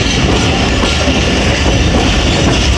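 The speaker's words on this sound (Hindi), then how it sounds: "राइट टाइम अराइवल हो रहा है 8 डाउन तेज़गाम का वज़ीराबाद जंक्शन रेलवे स्टेशन पे" 8 Down Tezgam Express pulling into Wazirabad Junction railway station, a loud, close, continuous rumble of rolling wheels and rail noise with steady clickety-clack and no voices.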